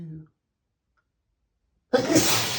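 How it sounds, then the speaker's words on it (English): A single forceful sneeze from a man in the middle of a sneezing fit bursts in loudly near the end, following a short breathy sound and a long stretch of near silence. "God, I'm so sorry about my sneezes."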